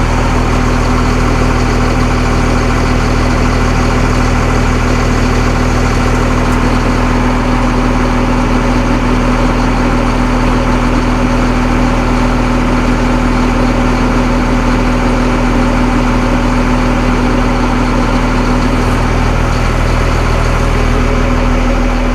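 Forestry equipment idles at low revs for a long stretch, a steady heavy droning hum with a constant tonal note and no voices over it.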